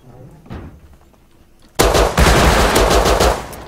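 Gunfire in the video game Rust: a faint shot, then a sudden loud, sustained burst of rapid automatic fire that keeps pounding to the end, with players' voices mixed in.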